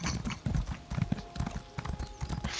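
Horse in The Elder Scrolls Online trotting, its hooves clip-clopping in a clear, regular rhythm that repeats throughout, fairly close and unobscured, with a faint hiss toward the end.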